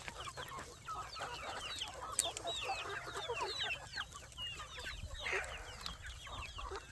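A flock of chickens clucks and chatters continuously in a farmyard, many overlapping calls at moderate distance with a low background rumble, no talking.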